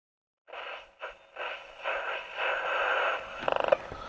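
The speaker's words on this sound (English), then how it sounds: "So we've got some RF noise there on that." Hissy, crackling RF noise from a radio receiver under repair rises and falls in bursts, ending with a short run of rapid clicks, close and moderately loud with no voices.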